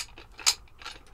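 A pinned puzzle lock snaps shut: one sharp metallic click mid-way, with lighter mechanical clicks and ratcheting just before and after, close and fairly quiet, with no talking.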